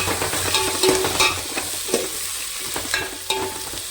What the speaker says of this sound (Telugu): దీన్ని చక్కగా మనం బంగారు రంగు వచ్చినట్టుగా వేయించుకున్నామండి